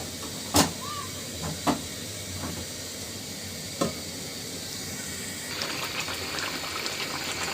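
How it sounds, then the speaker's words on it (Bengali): Egg and tomato gravy simmering in a covered pot on medium heat, a faint steady bubbling hiss punctuated by a few sharp clinks of the lid or utensil. "ঝোলটা মাশাআল্লাহ অনেক সুন্দর ফুটতে শুরু করেছে।"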